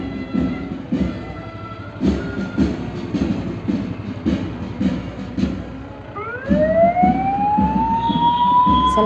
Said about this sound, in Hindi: सलामी देते हुए फायर ब्रिगेड की टोली मंच से गुजर रही है।